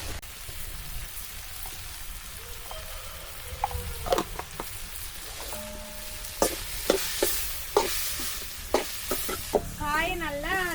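Sautéed bitter gourd tipped into a pan of fried onion and tomato, sizzling steadily with sharp clinks and scrapes of stirring. A brief warbling sound rises near the end.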